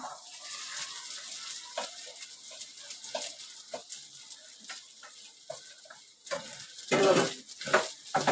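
Sabudana khichdi with potatoes is stirred in a pan: soft sizzling under repeated scraping and clinking of a spoon against the pan, growing louder near the end.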